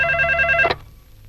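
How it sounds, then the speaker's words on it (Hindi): A telephone rings once on the line, a loud electronic ring tone that stops abruptly and leaves a quiet hiss behind it. "रिंग हो रही है।"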